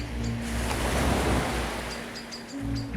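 Sea waves washing against the rocky shore at Kullaberg, Sweden, a swelling surge that peaks mid-clip and recedes, with wind buffeting the microphone and faint tones over the steady roar.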